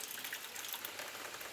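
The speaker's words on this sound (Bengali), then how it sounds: "ওইখান থেকে ছাঁচটা থেকে জলটা পড়ছে" Rainwater runs and drips steadily from the roof eaves on a rainy morning, a soft, continuous watery trickle and patter heard alone at low level.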